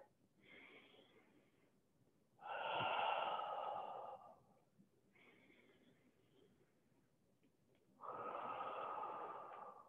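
Slow, deep yoga breaths during a gentle flow: two soft, quiet breaths alternate with two longer, louder airy exhales, each lasting a couple of seconds, close and steady with no talking.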